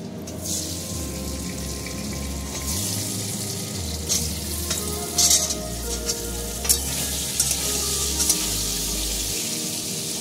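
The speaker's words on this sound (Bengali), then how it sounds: "এবার আলুগুলো আমি ভেজে নেব।" Potatoes frying in hot oil, a dense continuous sizzle and crackle filling the whole stretch, with occasional utensil clicks and stirring noises over it, close and fairly loud, no voices.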